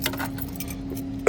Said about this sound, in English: I've put my keys in the door.